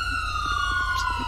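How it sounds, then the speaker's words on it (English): A police siren in the game GTA V wails with a gliding, falling tone, sounding close and continuous over a background rumble. "Sirens everywhere."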